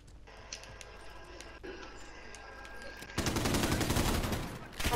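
Gunfire in Call of Duty: Modern Warfare (2019) on PS4: after quieter in-game ambience with an isolated shot, a loud sustained burst of rapid automatic fire erupts and continues to the end.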